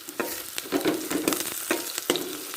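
Fried onions and crushed fennel seeds being stirred in a pan for a plantain stir-fry, a close sizzle with repeated quick scraping and clinking of the spoon against the pan.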